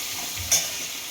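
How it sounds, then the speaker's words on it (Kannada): Ginger garlic paste fries in a pan for veg Hakka noodles, a soft steady sizzle with one brief louder stir or scrape near the middle. "ಶುಂಠಿ ಬೆಳ್ಳುಳ್ಳಿ ಪೇಸ್ಟನ್ನ ಈಗ ಹಾಕ್ಕೋತಾ ಇದ್ದೀನಿ. ಅದು ಹಸಿ ವಾಸನೆ ಹೋಗೋವರೆಗೂ ಸ್ವಲ್ಪ ಫ್ರೈ ಮಾಡ್ಕೋಬೇಕು"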